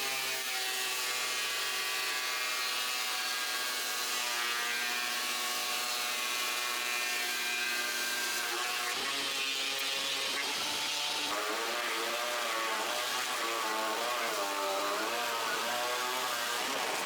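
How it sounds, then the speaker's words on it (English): A planer runs steadily on wood planks being planed to an even thickness, a constant loud whine that shifts to a rougher warbling tone midway as the cutters bite. "Next I plane the wood to an even thickness"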